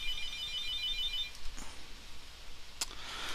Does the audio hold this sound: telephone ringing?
yes